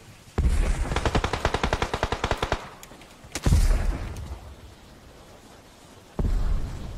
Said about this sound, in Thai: เนี่ยธนูไฟยังยิงอยู่เลยอ่ะ